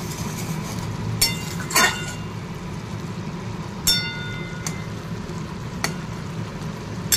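Okra frying in mustard oil, a moderate crackling sizzle with a low background rumble, broken by a few sharp clinks and spatters at scattered moments.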